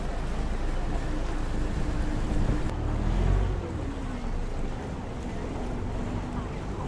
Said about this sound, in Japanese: フリーシャトルボート